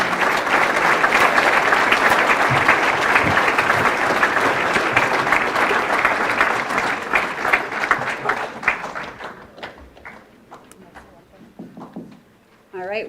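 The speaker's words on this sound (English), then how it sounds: "let's give a big round of applause for our 2023 Scholar Athletes" A large audience applauds the 2023 scholar athletes at a recognition awards ceremony, steady dense clapping that gradually thins into scattered individual claps before a voice returns at the end.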